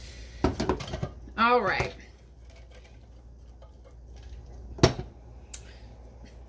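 A pan is handled in a home kitchen during keto meal prep, with a burst of metallic clattering, a brief spoken phrase, then a single sharp clank of cookware after a quieter pause.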